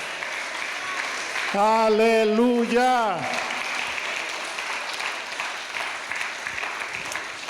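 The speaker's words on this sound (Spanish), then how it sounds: "¿Cuánto le dan un aplauso al Señor?" A church congregation applauds the Lord during a Spanish-language sermon, a steady wash of clapping throughout. One voice shouts out loudly over it midway.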